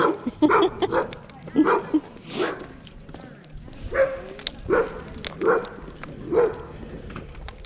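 Several dogs bark and yip at a state park campground, a series of close, sharp woofs arriving in uneven bursts across the clip, with a few softer whimpering calls in between.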